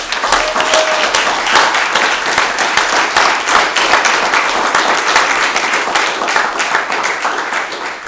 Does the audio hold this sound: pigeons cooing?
no